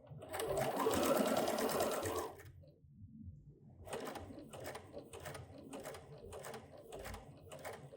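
A sewing machine stitches through a piece of cord, a dense rapid whirring run at first, then after a short pause a series of quick rhythmic bursts of needle strokes, close and fairly loud.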